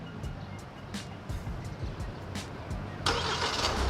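A Hyundai Palisade Signature SUV engine cranks and catches, the starter whir giving way to a steady idle that swells near the end, heard close with the doors still locked.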